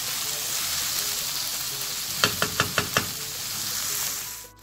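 Chicken gizzards sauté in a pan with a steady, close sizzle, broken midway by a quick run of five sharp utensil knocks against the pan.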